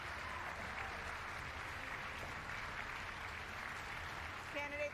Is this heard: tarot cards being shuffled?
no